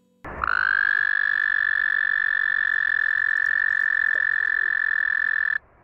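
A single cartoon toad from Teen Titans Go lets out a long, sustained croaking call, loud and close, with a steady tone that holds for several seconds before cutting off.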